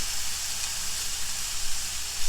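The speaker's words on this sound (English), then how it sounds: "Probably going to sear them for about 4 or 5 minutes on each side." Pork loin chops searing in a hot pan, a steady bright sizzle and hiss that continues unbroken and fairly close, moderately loud, with no talking over it.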